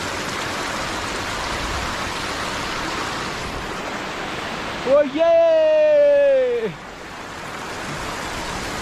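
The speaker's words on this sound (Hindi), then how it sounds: "धीरे पानी का बर्फ का पिघला हुआ पानी कितनी शोर है।" A rushing stream of snowmelt water at Sonmarg, Kashmir, gives off a steady broadband roar throughout. Partway through, a voice briefly exclaims over it.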